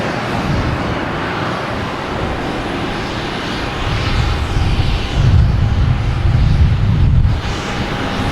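A Lufthansa airliner sits lined up on runway 4 right at Boston Logan, its engines giving off a loud, continuous roar with wind buffeting the microphone, and the rumble swells toward the end.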